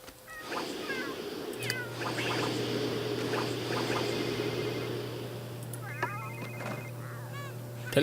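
A telephone rings in The Sims 3 in short, bright repeated chirps, heard in two bursts over a steady low hum and busy game background.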